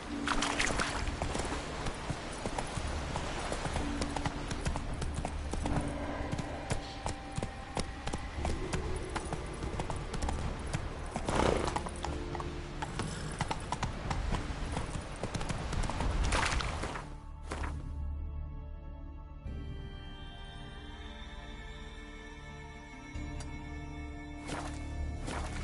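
A horse in The Witcher 3 gallops with a steady, rapid clip-clop of hooves close by, fairly loud at first, then the hoofbeats thin and quieten toward the end, with no talk.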